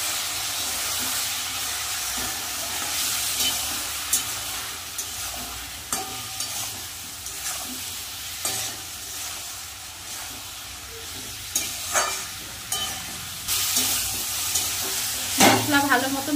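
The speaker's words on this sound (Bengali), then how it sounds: "এবার ভালো করে মশলাটা কষিয়ে নেব। মশলাটা কষানোর জন্য আমি অল্প একটু জল দিয়ে দেবো।" Spice paste with a splash of water is stir-fried in a pan for an aloo katla ghonto fish curry, giving a continuous loud sizzle and hiss with scattered scraping clicks of a spatula stirring, and no voices.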